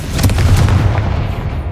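Confringo blasting spell going off in Hogwarts Legacy, a loud, sustained boom with rumbling low end and crackling bursts that hold steady for nearly two seconds before easing slightly.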